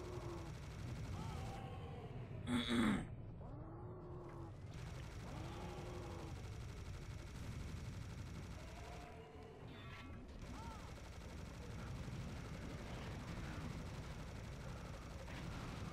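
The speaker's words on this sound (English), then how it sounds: "Oh, I like this chain gun." A chain gun in Serious Sam: The First Encounter fires in a dense, continuous stream of rapid shots at steady loudness, with someone talking over it.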